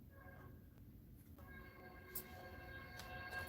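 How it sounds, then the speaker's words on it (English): A train rumbles past, a low steady roar topped by sustained high screeching tones that grow louder toward the end. "Two trains screaming behind"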